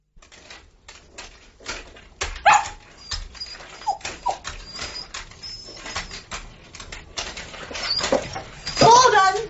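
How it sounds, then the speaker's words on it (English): A dog in a radio drama barks, yips and whimpers in rapid, restless bursts throughout, close and lively, with occasional speech mixed in among the animal sounds. "The dog's gone mad."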